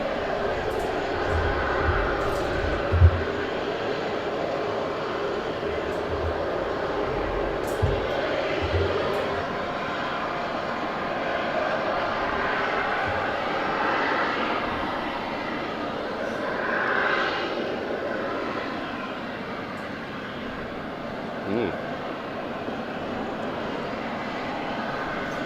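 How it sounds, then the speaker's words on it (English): A Boeing 737 jet taxis out at Southend Airport, with steady engine rumble and whine close by throughout, plus occasional thumps. A voice talks faintly over the engine noise. "just waiting on the taxi out on the 2XL 737"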